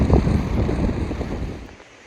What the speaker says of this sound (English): A little windy again.